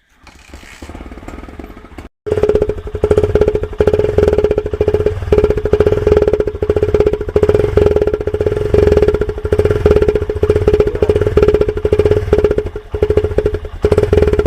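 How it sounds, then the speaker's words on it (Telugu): A motorcycle idles with an empty Budweiser beer can fitted to its exhaust, giving a loud, rattling, rapidly pulsing chug; a quieter stretch jumps to a harsher, louder tone after a brief gap. "ఈ బడ్వైజర్ టిన్తోనే మనం బైక్ సౌండ్ అయితే చేంజ్ చేస్తున్నాం."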